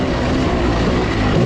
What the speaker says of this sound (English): 2-stroke bike, let's go!